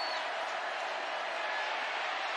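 Crowd noise at Scott Stadium during a college football game, a steady, distant roar of cheering fans, even and sustained without breaks.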